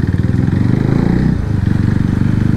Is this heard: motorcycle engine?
yes